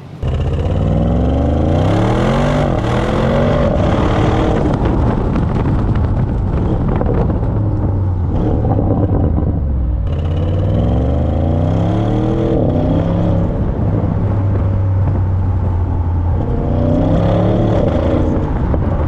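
An Audi RS6 engine runs loud and close, repeatedly revving in rising sweeps that fall back to a deep burbling idle, with roaring exhaust filling the whole stretch and no talking.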